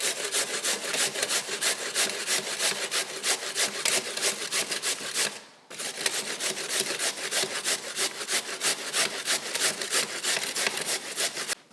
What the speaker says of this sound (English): I'm gonna get this grated.